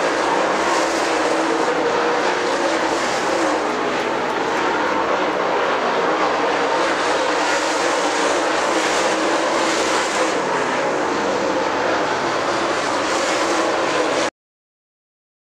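Super late model race cars roaring down the front straightaway at Dixie Speedway, a dense, steady engine drone that stays loud and continuous throughout with no pauses.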